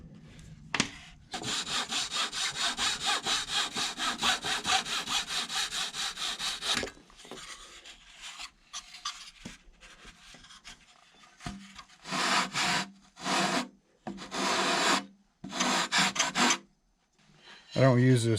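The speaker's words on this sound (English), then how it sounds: "the next step is to actually start cutting and shaping" Wood blocks being sawn and filed by hand to shape parts for a model build, with a long steady stretch of rhythmic rasping followed by shorter bursts of scraping separated by brief pauses.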